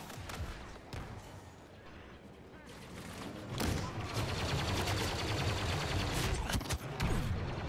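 Chaotic battlefield gunfire in the video game Star Wars Battlefront 2, overlapping blaster shots and thuds building to a loud continuous barrage, with a voice talking underneath.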